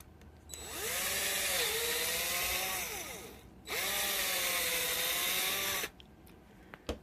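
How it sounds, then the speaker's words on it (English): A drill runs a 3/32 bit through a 3D printed plastic snow blower kit part in two steady bursts of a few seconds each, with a whining pitch that sags under load and recovers, separated by a brief pause. "and drill the 3/32 all the way through."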